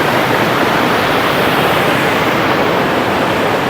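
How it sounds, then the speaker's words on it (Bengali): A waterfall stream below a hanging bridge at Lingtam in East Sikkim roars as a loud, dense, unbroken rush of water, steady from start to finish with no voices. "এই হচ্ছে তার তলদেশ, অপূর্ব একদম ঝর্ণার স্রোত"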